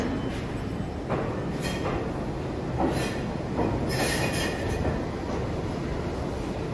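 A train rumbles along the tracks at Grand Central in New York with a steady roar, wheels clattering and faint high squeals rising now and then, heard from inside the car.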